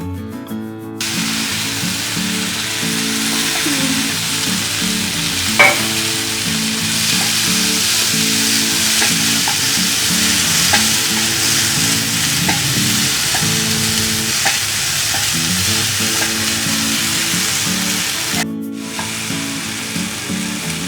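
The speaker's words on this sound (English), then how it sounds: "Next step, we will fry the tomatoes." Tomatoes frying in a frying pan for a homemade pizza topping, a close, steady sizzle with constant stirring and scraping, loud and uninterrupted throughout, with a few sharper clicks and no talking.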